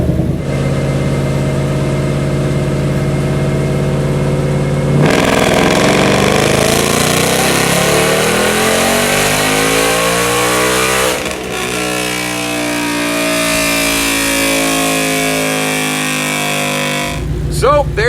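A Hellion twin-turbo Mustang roars on a dyno, holding a loud steady tone, then sweeping up through the gears with rising pitch in long pulls before cutting back, near and powerful throughout.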